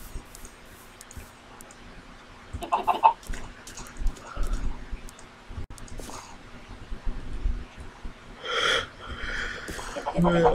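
Minecraft chickens give a few short clucks and squawks in bursts amid game sounds, with clicking and a person talking over them, fairly close and moderately loud.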